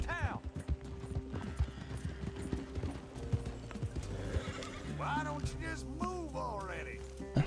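In the video game Red Dead Redemption 2, hooves clip-clop in a quick rhythm, then a horse neighs twice with rising whinnies; a low mechanical hum runs underneath.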